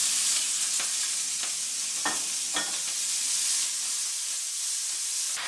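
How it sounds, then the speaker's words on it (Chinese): Stringy stonecrop herb stir-fried fast in hot paraffin oil in a heated wok, a loud steady sizzling hiss with several sharp scrapes and stirring clatters scattered through it, close up and without talk. "我们要爆炒，就是快速的炒，可以把垂盆草投进去"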